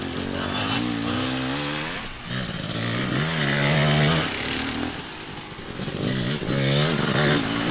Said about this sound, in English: the other guys had shown up and started ripping around on some dirt bikes